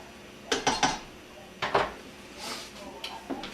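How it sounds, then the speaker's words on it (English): Frozen, unthawed shrimp tumble into a hot pan for a seafood concasse, followed by a few sharp metallic clanks and scrapes of stirring, close and intermittent over a low background hiss. "I'm going to dump all the shrimp in now. Give them a little stir so they get seated."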